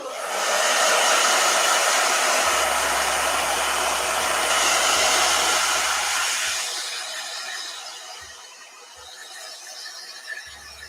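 Hair blow dryer drying a watercolor painting, a loud continuous airy roar that holds steady and then eases slightly as it is moved.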